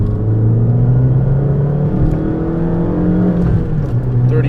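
An Abarth 500 engine revs up hard on a freeway entrance, its pitch climbing steadily as it accelerates, loud and close over a low road rumble.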